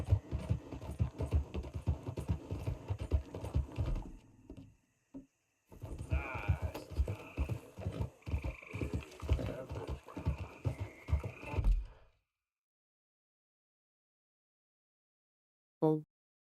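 Horse hooves clip-clop steadily in Red Dead Redemption 2, with dense rhythmic footfalls that stop for a moment, start again and then cut out, ending in a brief short sound.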